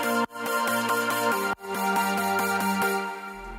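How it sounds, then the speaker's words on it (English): Future bass chords from a Serum synth using two oscillators, filtered and layered with effects and stereo imaging, ring out as sustained rhythmic stabs, with two brief gaps and a low bass note at the end. "It's basically serum with 2 oscillators,"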